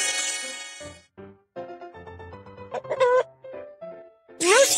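A rooster crows in a kids' educational video game, a bright strained call at the end of a short run of game music and chimes, loud and close.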